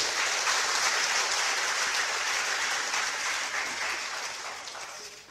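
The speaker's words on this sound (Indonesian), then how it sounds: "Tepuk tangan dulu." An audience at a government ceremony applauds newly appointed civil servants, a dense, sustained wash of clapping that slowly fades toward the end.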